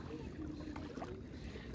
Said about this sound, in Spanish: ya anda ya la lancha navegando